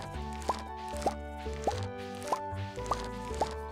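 Watering in the Stardew Valley game gives a run of six bright, evenly spaced droplet plops with a rising pitch sweep, set over soft game music and heard cleanly without talk.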